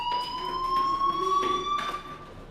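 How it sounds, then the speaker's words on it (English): A fire alarm rings in the video game Life is Strange, a continuous electronic tone pulsing with a steady rhythm, clear and moderately loud throughout the short stretch. "Hey, do you hear that fire alarm?"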